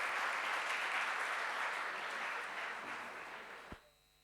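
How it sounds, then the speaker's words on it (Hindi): An audience at a spiritual gathering claps to welcome a guest, with sustained applause that fades out and ends with a soft thump. "तालियों से शिव शंकर का स्वागत कीजिए"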